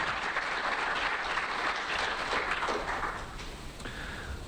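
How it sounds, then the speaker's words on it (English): A conference audience claps in a dense, steady round of applause that fades slightly near the end. "how about one big round of applause for Lynn and for all the other volunteers who made this conference"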